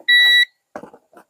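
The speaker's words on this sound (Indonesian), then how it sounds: "radarnya, ada suaranya ya, bunyi tadi, bip tadi" A battery-powered garden radar device gives one loud, sharp electronic beep lasting under half a second, followed by a few quieter handling clicks and rustles.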